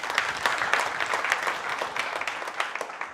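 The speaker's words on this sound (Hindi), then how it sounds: "के लिए जोरदार तालियां हो जाए एक बार" Crowd applause at an outdoor rally in Delhi, steady dense clapping from many hands at moderate volume, continuing evenly throughout without pause.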